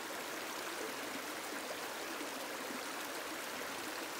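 A flowing stream in a calm meditation setting, its water rushing and babbling in a steady, even wash that holds the same level throughout, with no voices.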